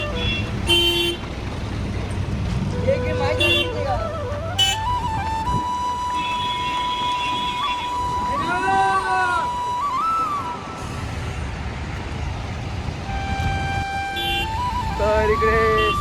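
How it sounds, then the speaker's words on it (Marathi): Heavy road traffic climbing the Sinnar ghat, with engines rumbling under repeated car horns: several long sustained honks and shorter toots from nearby vehicles, loud and close throughout. "इकडे सिन्नर घाटावरती खूप ट्रॅफिक झालेले आहे"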